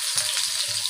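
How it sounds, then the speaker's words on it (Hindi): Chopped onion sizzling in hot ghee, a dense, steady crackle and hiss close by, heard alone in a brief burst. "हमारा घी हो गया है गरम। अब हम डालेंगे प्याज"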